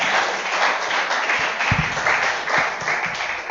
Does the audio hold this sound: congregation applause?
yes